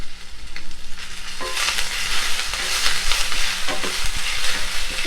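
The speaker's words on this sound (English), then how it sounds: "I'm back to my iron skillet which is well heated now. I'm going to add this chili garlic paste first" Chili garlic paste hits a well-heated iron skillet, a loud close sizzle that swells and keeps crackling while it is stirred and scraped, with a low hum beneath and no voices.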